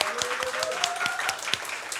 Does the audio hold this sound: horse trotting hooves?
no